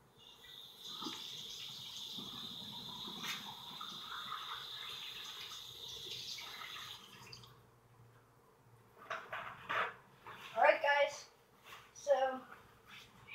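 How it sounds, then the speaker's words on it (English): Tap water runs steadily into a sink while hands are washed beside trout ponds, then the flow stops and a few splashy rinses and scrubbing sounds follow, with a voice talking over part of it. "let me wash my hands one more time"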